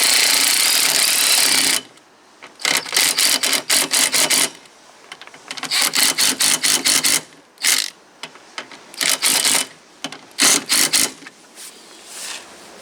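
Power tool tightening the wiper spindle nuts on a 1998 Dennis Dart bus: a long opening burst, then repeated short rattling, hammering bursts in quick stop-start pulses, close and loud with no talking.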